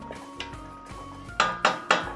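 A metal spoon stirring a bouillon cube into about a litre of liquid in a pot, giving a few soft clinks followed by three sharp, evenly spaced knocks against the rim.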